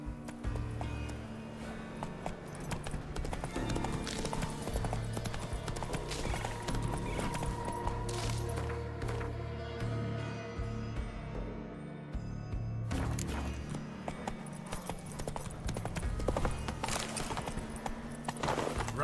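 Roach, a horse in The Witcher 3, gallops in a steady, close clip-clop of hooves that runs the whole way through, over a bed of game music and ambience.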